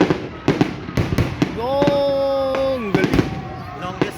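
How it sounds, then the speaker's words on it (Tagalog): Canada Day fireworks bursting over the lake at Oshawa, with a string of sharp, near bangs and crackles around a sustained whistling tone in the middle, while spectators exclaim and talk throughout. "Longest fireworks in the world."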